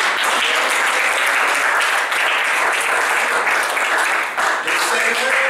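A church congregation claps loudly and continuously for the Lord during a seminar, a dense unbroken wall of applause with voices mixed in.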